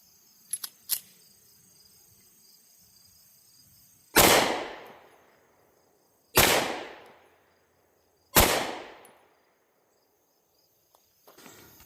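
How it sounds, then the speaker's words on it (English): A pistol fitted with an Osight K red dot sight fired at a target: three sharp, loud shots spaced about two seconds apart, each ringing briefly, with a few faint clicks before and after in a quiet setting. "those were 3 terrible shots by me"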